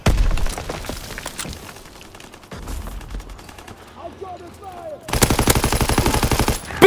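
Video game battle gunfire: scattered shots and crackling fire with radio-style voices in the background, then a sustained loud burst of rapid automatic machine-gun fire near the end, close and dominant.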